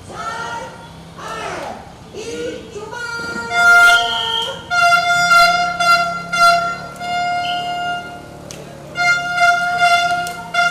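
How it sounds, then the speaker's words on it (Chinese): A horn sounds to start a cycling ride, a 100 km loop through eight townships in Yilan, Taiwan, with sustained tonal horn-like blasts over crowd noise and a voice counting at the start. "在中华两岸自行车运动发展协会理事长游成晓鸣笛下，车友展开挑战宜兰八个乡镇的百 K 环线壮游。"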